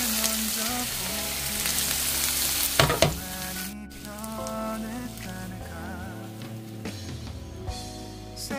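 Saba bananas fry in a pan with a continuous close sizzle and crackle, broken by a few clatters of a utensil stirring partway through.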